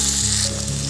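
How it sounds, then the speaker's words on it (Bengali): Tomato and drumsticks frying in a pan with onion and potato, giving a loud, continuous close-up sizzle with no one speaking. "এরপরে আমি দিয়ে দিচ্ছি টমেটো, সজনে ডাঁটা, আরেকবার ভালো করে ভেজে নিচ্ছি।"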